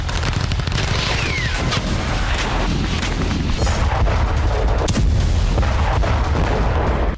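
Russian artillery shelling in Donetsk forms a continuous heavy roar of booms and rumbling blasts, with dense low-end thunder and sharper cracks scattered throughout, loud and unrelenting with no pause.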